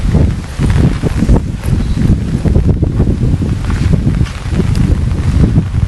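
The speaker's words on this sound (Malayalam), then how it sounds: "ഭയങ്കര കാറ്റും മഴയാണ്." Strong wind and rain in a forest in Panavalli, Wayanad, a loud, constant buffeting roar with heavy low rumble and rustling, close to the microphone and unbroken throughout.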